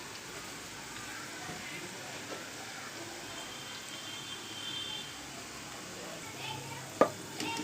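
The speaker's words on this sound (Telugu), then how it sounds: "బాగా వేగనివ్వాలండి." Onion pakodas deep-fry in hot oil, a steady soft hiss and sizzle with fine bubbling crackle, fairly faint and continuous, ending with a brief sharp clink.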